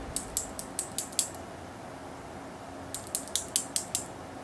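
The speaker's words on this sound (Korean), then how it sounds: "단순한 구조를 가지고 있는 이 버클은 링크보다 퀄리티가 더 좋지 않습니다. 이 퀄리티는 소리로 대신하겠습니다." Metal buckle on a Longines Legend Diver 39 steel bracelet being worked by hand: two bursts of crisp ratcheting clicks, about five each, separated by a quiet pause, close and clear with no talking.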